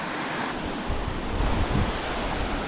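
A waterfall on a mountain creek in the San Bernardino Mountains roars as a steady, dense wash of rushing water, loud and constant with no voices.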